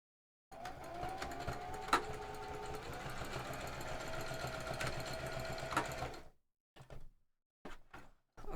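A sewing machine stitches in one continuous whirring run of about six seconds, close and steady, then stops, followed by a few short bursts of stitching.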